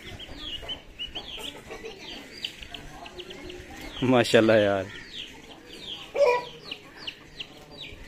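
Chickens and roosters at feed, pecking grain with repeated close clucks and a loud burst of crowing or squawking midway, while someone speaks briefly over the flock.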